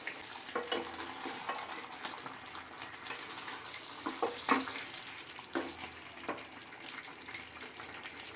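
Mutton and raw jackfruit being stirred and sautéed in a pan, a soft continuous sizzle broken by irregular scraping and clinking strokes of the spatula, close and fairly quiet.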